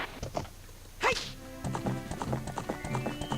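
Epona the horse in the video game The Legend of Zelda: Ocarina of Time, with a whinny near the start followed by rhythmic clip-clop hoofbeats trotting steadily and close by, with no talking over it.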